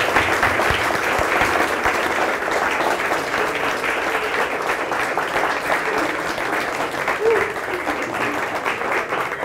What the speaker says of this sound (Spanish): Fuerte el aplauso a la nueva pareja de esposos.